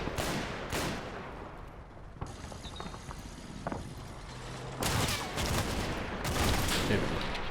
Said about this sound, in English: looks like the German machine gun from that position